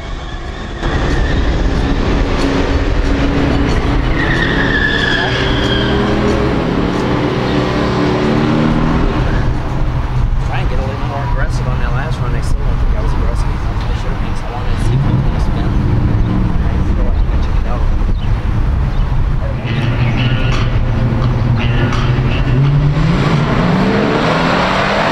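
A 1969 Road Runner and a 1971 AMC Javelin in a pure-stock heads-up drag race, engines roaring loud and steady throughout with shifting revs, a voice commentating over the noise.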